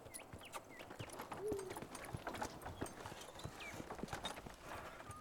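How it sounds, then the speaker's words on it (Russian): Horse hooves clip-clop steadily at a walking pace, moderately close, with faint birdsong chirping in the background. "Уведи лошадь."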